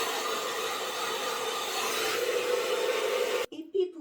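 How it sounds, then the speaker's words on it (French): A hair dryer on its cool setting blows a steady, close, loud airflow for over three seconds, then cuts off abruptly, followed by a brief bit of speech. "Et puis avec mon sèche-cheveux, avec l'air froid, je vais enlever excès de la poudre."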